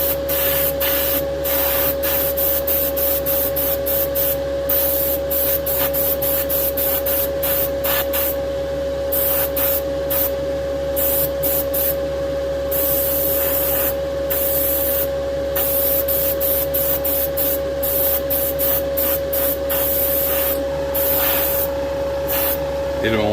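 Paint hisses from a spray can onto the underside of a hood for a 1969 Dodge Charger scale model, loud and close in steady bursts with short gaps, a constant hum beneath and a voice talking over it.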